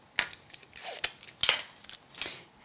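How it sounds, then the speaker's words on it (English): Removable tape pulled and pressed onto a coconut white card during papercrafting, giving several sharp, close crackly tears and taps spaced irregularly, with no talking. "I'm going to go ahead and tape this into the center of my coconut white card with some removable tape."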